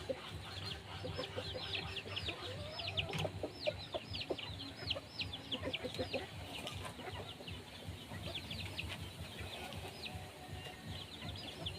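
Sick chickens clucking in a coop after being given medicine: a steady, dense chorus of close clucks and squawks from several birds, continuous throughout with rustling underneath.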